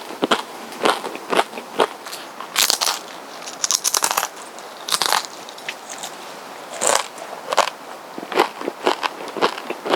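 Crisp, crunchy bites and chewing of a Korean-style taco repeat every second or so, close to the ear, during solo winter car camping in a small tent.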